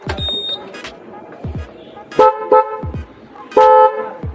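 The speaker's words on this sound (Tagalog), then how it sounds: "Naka dual horn to ngayon, pero yung stock niya tinanggal ko na." Several loud, close blasts of a dual-tone motorcycle horn replacing the stock horn, short and longer honks in an irregular pattern, with clicks between them.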